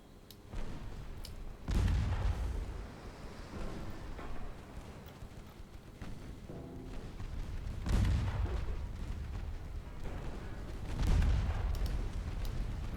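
Naval guns fire steadily in a strategy game set in an Austrian imperial campaign, deep booms recurring every few seconds over a continuous rumble of battle, with no voices.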